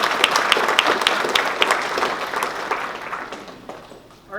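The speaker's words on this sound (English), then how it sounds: "So we could just give them a little applause." Audience applause at a college athletic hall of fame ceremony, a steady wash of many hands clapping that fades toward the end.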